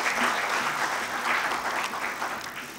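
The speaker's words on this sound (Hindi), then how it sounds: "जोरदार ताली से अभिनंदन।" An audience at a Chhattisgarhi-language workshop applauding, a steady, fairly loud wash of many hands clapping that fades slightly toward the end.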